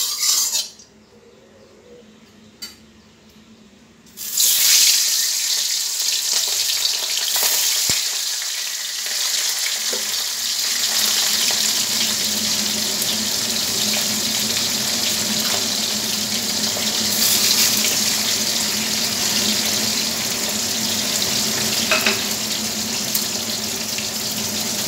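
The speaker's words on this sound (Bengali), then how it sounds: "কড়া গরম করে আমি তেল দিয়ে দিয়েছি। এবার আমি মাছগুলো ভেজে নেব।" Pomfret fish fries in very hot oil. After a few quiet seconds a loud, dense sizzling hiss begins and continues steadily up close, with occasional faint clinks.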